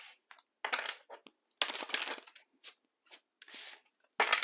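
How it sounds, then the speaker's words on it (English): Tarot cards are shuffled in several quick, crisp bursts of riffling and shuffling, close and clear, with short pauses between. "let's do some initial shuffling"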